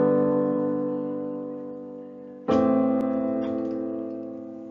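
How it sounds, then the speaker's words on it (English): Low, deep left-hand chords ring out on a keyboard: one sustained chord slowly decays, then a second chord is struck and held, resonant and alone. "My left hand chords, these low deep chords, sound like this."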